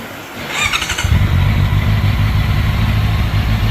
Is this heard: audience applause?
no